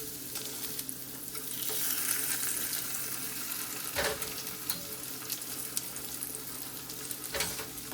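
Pork belly coated in barbecue sauce sizzling under a broiler, a continuous close crackling sizzle with a couple of louder bumps, no talk.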